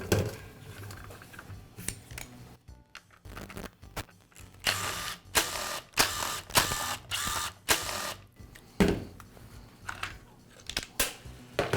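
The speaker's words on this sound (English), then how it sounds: "I'll begin by removing the rear handle cover." Rear handle cover coming off a DeWALT circular saw during a power cord repair, a run of close, sharp plastic clicks, snaps and rattles in irregular bursts, with short quiet gaps between them and no talk.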